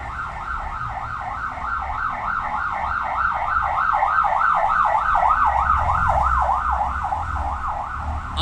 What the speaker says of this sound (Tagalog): Let's just let the ambulance pass.